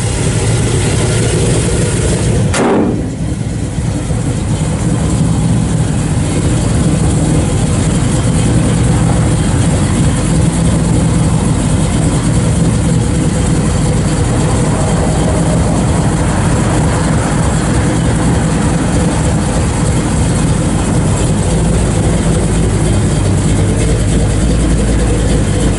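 A 1969 Chevrolet C10 Shortbox Stepside truck with a thumpy motor fires up and settles into a loud, steady low idle, a short start transient followed by continuous rumbling exhaust with no talk.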